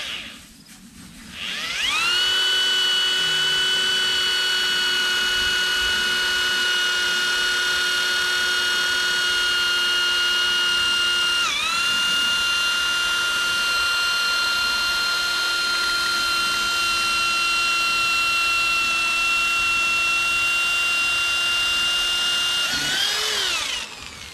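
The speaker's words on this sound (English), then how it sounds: "So I'm going to drill a couple in real time here for you" A cheap high-RPM electric drill bores into a salt lick block for deer, a loud, close, continuous high-pitched whine lasting about twenty seconds with a brief dip in speed midway, then spinning down at the end.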